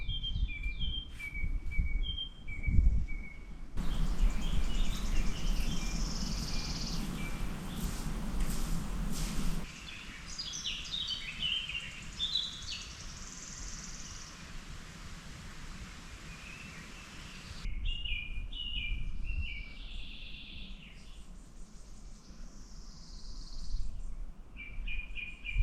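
Several birds call and chirp in a bird sanctuary in southern Scotland, short high tweets scattered through the scene over rustling and low background noise, some bursts near and others more distant.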